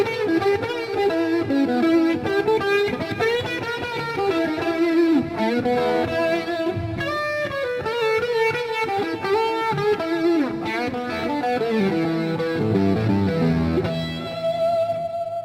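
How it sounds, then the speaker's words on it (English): A distorted electric guitar plays a flowing blues-style line with semitone string bends, notes sliding slightly up and sustaining with chorus-like shimmer, continuous and up front in a solo instrumental passage. "Another way to stretch the string is by the use of semitones, which you can hear in blues players."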